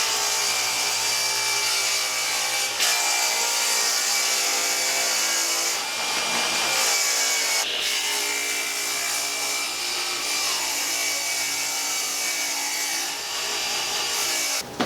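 A power saw rips a 4x4 sheet of plywood into strips, a loud continuous cutting whine with brief breaks and shifts in pitch as the blade moves through the wood.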